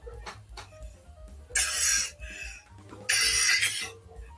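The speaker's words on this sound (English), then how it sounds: "I also remember that cough." Two harsh, breathy coughs stand out over a quiet background, the second about a second and a half after the first.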